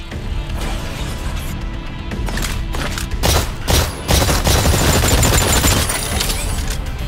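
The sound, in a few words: gunfire at distant targets in video game Exoprimal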